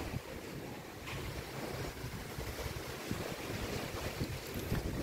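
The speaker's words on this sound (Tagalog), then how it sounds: "lakas ng hangin" Strong wind buffets the microphone in a constant loud rush as rain arrives during a pigeon derby in Ilagan, Isabela, with a faint wash like water or surf underneath.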